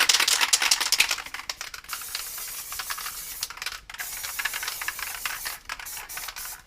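An aerosol spray paint can laying down a blue background colour, a loud close hiss in sustained bursts with brief gaps, plus the rattly clicking of the nozzle between sprays; no speech.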